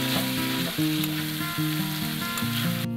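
Chicken and mashed potato sizzle loudly as they are sautéed and stirred in a pan, a constant hiss with a steady tonal hum beneath it.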